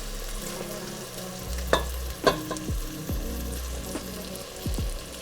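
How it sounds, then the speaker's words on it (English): Sautéed vegetables are tipped into a pot for lobster bisque and stirred, giving a soft sizzle with a few sharp clinks and scrapes of a spoon against the pot over a low steady hum. "So to our pot, we are now going to be adding our sauteed vegetables"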